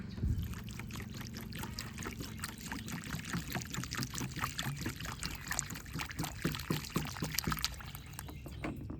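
Water pours and trickles steadily into a Fiddle Leaf Fig plant pot, close by, with small splashing and bubbling textures throughout.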